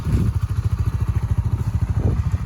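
A 2020 Honda CBR150R motorcycle engine idles close by with a rapid, even thumping pulse that stays steady and fairly loud throughout.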